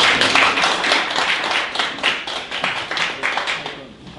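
Lecture-hall audience applauding to welcome a lecturer at a labor union briefing, a dense, steady wash of many hands clapping close by, holding at a fairly even level before tapering off at the end.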